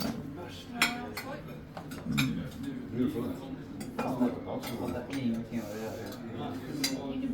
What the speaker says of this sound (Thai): เริ่มตักอาหารกันแล้วนะจ๊ะเออเริ่มตักอาหารไปแล้ว